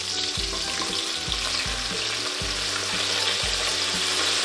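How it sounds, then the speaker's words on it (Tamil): Shallots and tomatoes sauté in a pan with a loud, constant sizzle, punctuated about once a second by soft scraping thumps as a spatula stirs the mixture. "இப்போது வெங்காயம் தக்காளி நல்லா வதங்கியாச்சுங்க."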